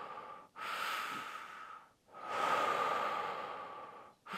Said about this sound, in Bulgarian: Вдишайте и издишайте.